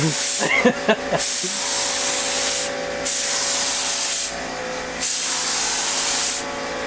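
Spray paint is dusted over the front lip of a car in short, close hissing bursts with brief pauses between them, and a person speaks briefly at the start.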